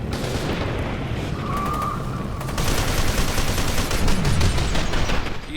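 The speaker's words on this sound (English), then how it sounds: "You can see I'm shooting this guy directly in the back" Gunfire in the shooter game F.E.A.R. 2 on a city street, loud dense bursts of rapid shots that swell and carry on without pause, with no talking over them.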